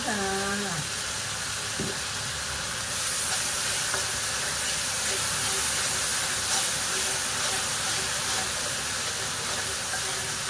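Hot oil hisses and sizzles steadily as dark soy sauce hits the pan during a stir-fry for ginger-topped tilapia, a loud continuous frying wash close to the microphone with faint clatter.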